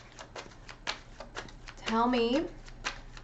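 Tarot cards being shuffled in quick, dry riffling bursts, close and fairly quiet, with a voice speaking briefly over the shuffling partway through.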